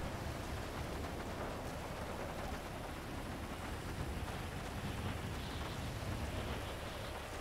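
Steady, dense video game rain hisses without a break, with a low rumble underneath and no voices.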